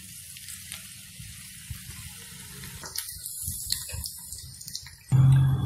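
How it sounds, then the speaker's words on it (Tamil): Cauliflower balls drop into hot oil and fry with a soft, steady sizzle, which swells into a louder burst of bubbling near the end. "இப்போ ஆயில் வந்து நல்லா ஹீட் ஆகிட்ட அப்புறம் நம்ம காலிஃப்ளவர் பண்ணி வச்சுருக்கிறத வந்து ஒரு பாலாக போட்டு எடுத்துடலாம்."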